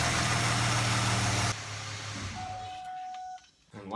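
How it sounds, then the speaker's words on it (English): Car engine idling after an oil change, a steady low rumble that drops abruptly partway through, then faint thin tones and small clicks close by. "you let the engine run for about 10 to 15 seconds before checking the engine oil level"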